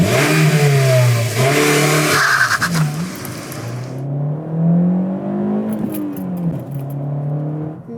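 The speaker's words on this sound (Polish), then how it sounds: "Dużo hałasu, bardzo pozytywne wrażenie związane z wysokimi obrotami" A Honda Civic IX engine revs hard and loud, climbing to high rpm and dropping back in repeated surges, with a brief metallic rattle near the end.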